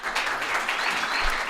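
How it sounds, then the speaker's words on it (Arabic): Studio audience at a Casablanca entertainment show claps in a dense, steady burst of applause lasting under two seconds, with no voices over it. "صفقوا بزاف"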